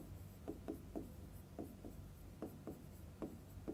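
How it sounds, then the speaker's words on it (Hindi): Chalk or marker writes on a board during a maths lesson, producing a series of short scratchy strokes in irregular bursts against a low background hum. "यहां पे मैं लिखता हूं f ऑफ x"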